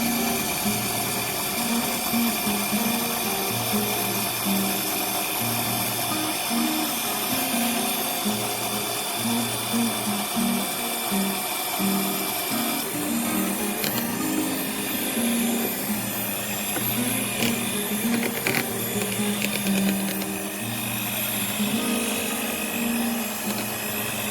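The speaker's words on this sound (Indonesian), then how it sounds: "Sekarang kita matikan mixernya." An electric hand mixer beats steamed rainbow cake batter with coconut milk and melted margarine, a steady loud motor whir running continuously throughout.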